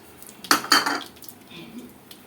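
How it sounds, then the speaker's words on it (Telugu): Vermicelli is tipped into ghee in a pan, with a couple of brisk metallic clatters and rattles of a utensil against the pan, followed by a quieter, fainter scrape. "ఇప్పుడు మనం 1 కప్పు సేమియా తీసుకున్నాం కదా, ఈ సేమియాని వేసేసుకుందాం."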